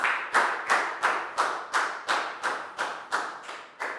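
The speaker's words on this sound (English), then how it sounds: "A big round of applause for everybody doing a great job." Classroom applause from a Year 4 math lesson: a group claps in a steady, evenly spaced rhythm of about eleven sharp, unison claps, fairly close and moderately loud, with no talking.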